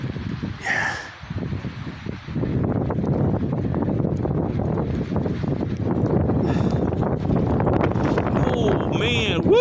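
Strong wind gusts during a blizzard in southwest Washington roar steadily into the microphone as a loud, broadband rush that builds after a short lull, with brief voices heard over it.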